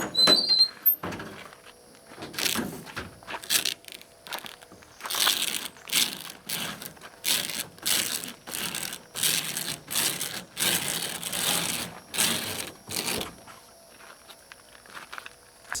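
Roll-up bed cover on a 2002 GMC Sierra 2500HD being rolled up by hand, a series of clattering, ratcheting bursts in an uneven rhythm, close and fairly loud, ending in quiet.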